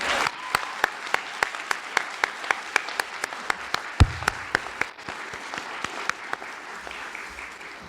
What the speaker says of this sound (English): Let's give Wameng Wang another round of applause.